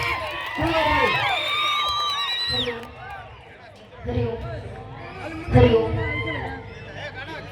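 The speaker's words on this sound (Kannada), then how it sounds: "ಫಸ್ಟ್ ಚಪ್ಪಾಳೆ ತಟ್ರಿ ಕೇಳಿ, ಚಪ್ಪಾಳೆ ತಟ್ರಿ ಕೇಳಿ" An audience at a speech event in Holagunda cheers and whoops in loud bursts, with crowd chatter and excited voices rising and falling throughout.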